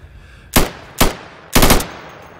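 Gunfire in the tactical shooter Insurgency, with three loud, close reports in quick succession, the last a short burst, standing alone over quiet background.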